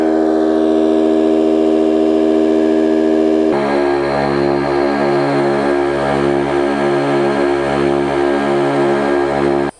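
An Outdoor Master Shark 3 electric paddle board pump running at high power gives a loud, steady, siren-like whine that shifts partway into a rough, pulsing drone, continuing unbroken until it cuts off at the end.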